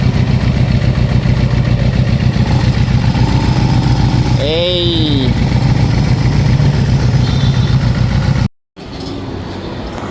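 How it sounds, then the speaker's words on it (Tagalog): Suzuki Impulse 400cc motorcycle engine idling after carburetor cleaning and tuning: a loud, steady low rumble throughout, while a voice speaks briefly and a short squeal passes midway before an abrupt cut near the end. "pero kung pakinggan mo yung makina nya, saktong sakto lang naman"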